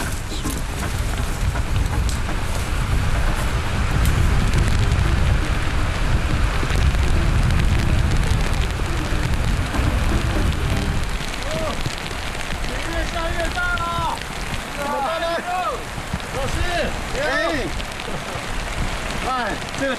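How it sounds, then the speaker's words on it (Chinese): Rain falls on a forest mountain trail in a steady, dense patter and hiss, close and continuous, with voices of hikers talking over it in the second half. "哦，真的下雨了，今天下的比较早"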